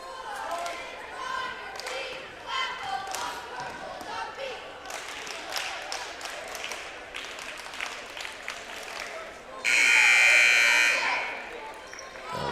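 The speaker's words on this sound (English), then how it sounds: "sound the horn" A loud sustained horn buzzer sounds for a few seconds at a 7th grade boys' basketball game between Hicksville and Edgerton, cutting over gym crowd noise, chatter and an announcer's voice.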